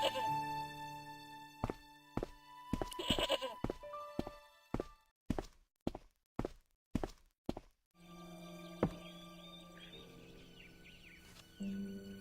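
A goat bleats in the Broken Sword adventure game, set in rural Ireland, amid scattered in-game thunks, footsteps and ambient effects, with no talking.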